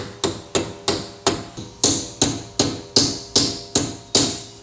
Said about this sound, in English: we're gonna put the dust cap back on using a rubber mallet